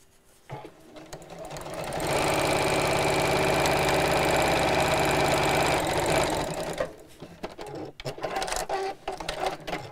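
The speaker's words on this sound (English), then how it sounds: "And just sew straight down the opposite side." A sewing machine stitches a seam on a fairy-house reading cushion cover, running steadily and close for about five seconds, with quieter fabric handling before and after.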